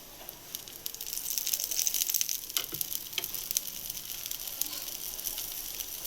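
Pesarattu batter topped with onion, green chilli, cumin and coriander sizzles in oil on a hot pan, a steady close crackle with fine rapid popping throughout.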